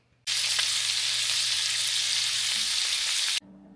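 Meat browning in a hot pan, a loud continuous sizzle that starts abruptly, holds steady for about three seconds, then cuts off.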